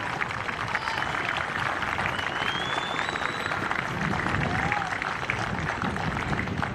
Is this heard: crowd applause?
yes